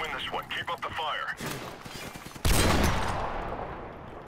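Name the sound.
gunfire in a shooting video game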